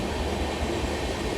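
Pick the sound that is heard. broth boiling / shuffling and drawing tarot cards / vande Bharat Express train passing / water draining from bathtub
vande Bharat Express train passing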